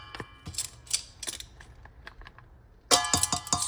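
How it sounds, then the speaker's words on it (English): Metal measuring spoons clink and clack against each other and a container while scooping ground cinnamon in a home kitchen, a run of irregular close knocks ending in a louder jangling clatter. "Sorry for the banging and the clicking and the clacking."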